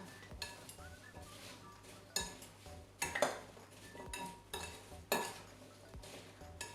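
Apple crumble filling being stirred with sugar in a bowl, giving repeated scraping and clinking of a spoon against the dish at close range, with sharper knocks every second or two and no talking.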